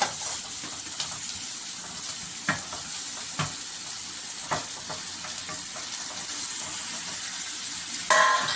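Kara kozhukattai (rice dumplings) sautéing with onions in a pan, a steady close sizzle and hiss broken by several sharp spoon scrapes and stirring knocks, with no voices.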